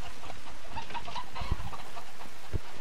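Chickens cluck in the Call of Duty Modern Warfare 3 multiplayer game, busy overlapping clucks with a couple of sharp thumps, loud and close over dense game noise, and no voices.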